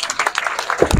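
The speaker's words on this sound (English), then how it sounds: "I am saying a big round of applause for our German friends once more" An audience gives a brief burst of applause at a donated-equipment handover ceremony in Gambia, with scattered claps rising near the end.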